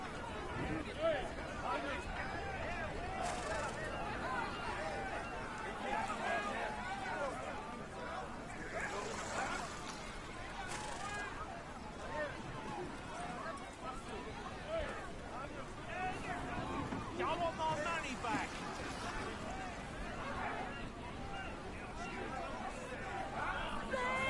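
Crowd chatter in the video game Pillars of the Earth: a dense, continuous babble of many voices at a harbour, with steady background noise throughout.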